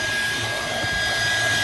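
A household vacuum cleaner runs steadily close by while cleaning the awkward footwell of a Nissan Qashqai, a continuous loud whine with a faint bumping as the nozzle knocks against the floor.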